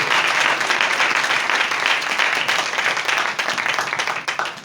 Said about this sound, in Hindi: जोरदार तालियां दें उसके जलाल के लिए।